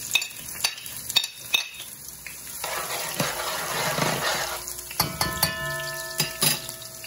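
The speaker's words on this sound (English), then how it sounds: "Half an onion, which I'm gonna saute first" Half an onion sautéing in about a quarter cup of hot oil in a pot for Trinidad curry goat, a steady close sizzle with stirring scrapes and clinks throughout.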